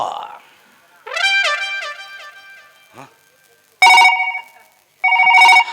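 A telephone rings in loud, repeated electronic bursts, with short gaps of near silence between them.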